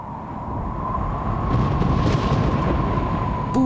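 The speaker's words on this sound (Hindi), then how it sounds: "तभी जोर से बिजली कड़की।" Thunder cracks over a mountain valley as a loud, sustained rumbling roar that rolls on without break and echoes heavily, swelling slightly midway before it fades.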